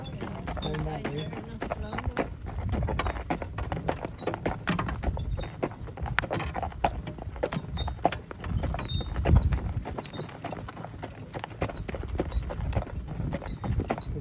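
An Irish Cob pulling a carriage clip-clops steadily, its hoof beats close and continuous under people talking nearby.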